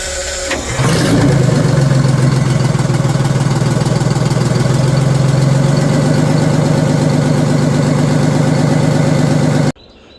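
Detroit Diesel engine cranking and catching, then running loud and steady with a rough, rapid idle clatter for about nine seconds before cutting off abruptly.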